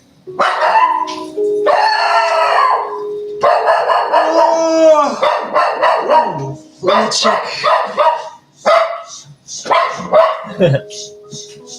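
A dog barks repeatedly close by, mixed with a person talking over it.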